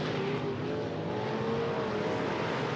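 Stock cars roar around Interstate Speedway in a steady, dense engine drone from several cars racing for the lead, loud and continuous without talk.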